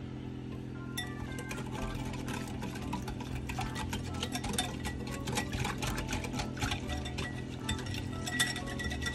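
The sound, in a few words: whisking sugar and cornstarch into cream in a bowl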